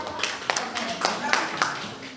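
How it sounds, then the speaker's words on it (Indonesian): A few scattered hand claps from a small audience at an entrepreneurship training session, sparse and uneven, with voices murmuring underneath. "Oke, terima kasih tepuk tangan."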